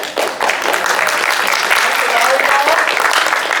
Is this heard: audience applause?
yes